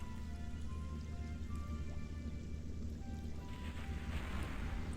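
The sea gives a continuous soft wash of water and surf, an even hiss like rain on water, with no voices.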